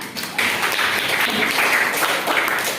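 A school class gives a steady round of applause in an Indonesian classroom during a teaching session, a dense, continuous patter of clapping hands at close range that holds evenly for a few seconds.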